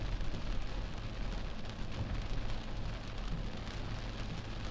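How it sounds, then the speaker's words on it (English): Steady rain falls during a tornado-producing thunderstorm in the eastern USA, a dense, even hiss with a low rumble beneath and no voices. "Yeah, I think it's just rain."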